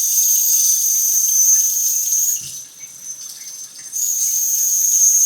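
A broken faucet gives off a steady high-pitched whistle over running water, loud and continuous, cutting out for about a second and a half before resuming.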